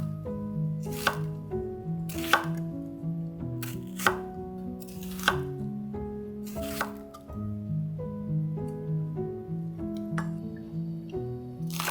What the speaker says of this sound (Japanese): 玉ねぎをカットする。